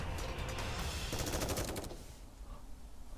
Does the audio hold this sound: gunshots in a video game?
yes